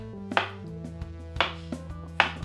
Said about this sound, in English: I need to take that papaya I cut up, I need to slice it into thin slices.